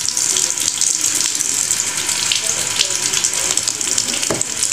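Tap water running into a bathroom sink while something is rinsed, a steady close hissing splash with small shifts in flow, with no talk over it.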